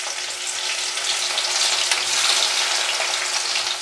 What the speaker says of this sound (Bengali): এখন পেঁয়াজটা একটু ভাজা হোক।